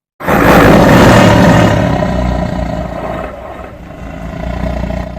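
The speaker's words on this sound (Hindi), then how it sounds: "उनकी डरावनी गुर्राहट से पूरा जंगल गूंजने लगा।" Several tigers roar loudly and close, one long booming roar bursting in and then fading into lower rumbling growls that swell again near the end.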